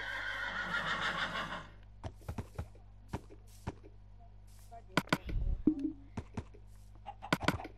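A horse in a video game gives a short whinny, followed by scattered hoof thuds and clicks, heard near and fairly faint against a quiet background.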